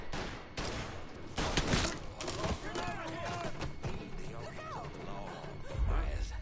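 Gunfire in Mafia 3 rings out as a string of sharp, loud shots and volleys in quick succession, mixed with impacts, while someone talks over the shooting.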